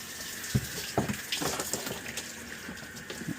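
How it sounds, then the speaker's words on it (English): Water and air sputter from open faucets after a tankless water heater flush, with irregular gurgling bursts and splashes over a running flow. "Now you are going to have some air pushing out of your open faucets"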